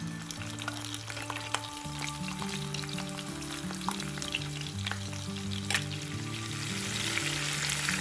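Ground onion paste with curry leaves frying in oil in a pan, giving a soft, steady sizzle with occasional stirring clicks beneath louder tonal background music, and no talking.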